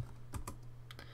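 Computer keyboard keys are struck while typing code, a few separate soft clicks in a small cluster, very quiet against a steady low electrical hum.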